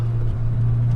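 A 1998 Peugeot 106 Rallye S2 exhaust fitted with a Pug Sport centre pipe and downpipe, giving a brief, close, steady low burble.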